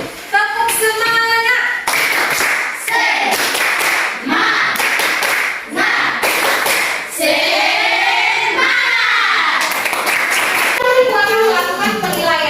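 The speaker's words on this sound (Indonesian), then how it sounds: "Kalau sudah siap, kita tepuk semangat dulu." A classroom of students performs the tepuk semangat chant, bursts of sharp rhythmic clapping alternating with group vocal chanting, loud and close throughout.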